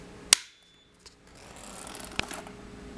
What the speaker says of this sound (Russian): отключаю данный автомат вручную